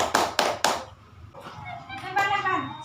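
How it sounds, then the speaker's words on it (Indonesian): Three quick claps from a third-grade Islamic primary school class, loud and close, followed by children chattering. "tepuk tangan."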